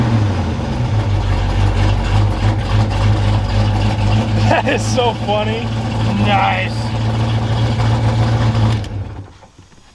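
Ford Foxbody Mustang V8 running on a new custom exhaust with a possible exhaust leak, a steady deep idle rumble under people talking and laughing, cutting off abruptly near the end.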